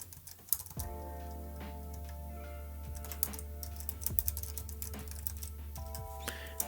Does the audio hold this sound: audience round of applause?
no